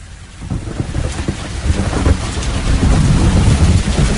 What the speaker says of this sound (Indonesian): Gemuruh petir terdengar jelas olehku.